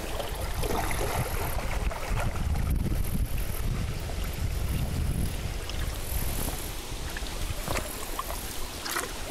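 Strong wind of about 15 mph gusts across a lake lined with tamarack, white pine, hemlock and spruce while canoeing, a steady broadband roar with mic buffeting and water lapping throughout, no voices.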